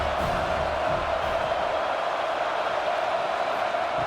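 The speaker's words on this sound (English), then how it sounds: "the crowd really getting into it" A football crowd roars through a big third-down play at a spring tournament game, a steady, broad wash of distant cheering that holds at an even level throughout with no standout shouts.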